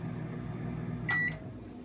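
An Alexa-enabled microwave oven gives a short, clear electronic beep as it stops, set against a steady low hum of appliance or room noise.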